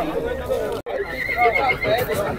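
Horses neighing at a busy horse fair, whinnies rising over a dense crowd murmur and voices, with hooves clip-clopping nearby and the din steady throughout.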